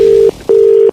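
Telephone dialing, two loud steady tones of equal pitch, each about a third of a second, separated by a short gap, close and alone.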